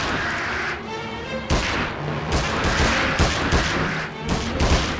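Gunfire from a weapon in the King Kong video game, loud close bursts of shots with echoing booms, fired in quick clusters.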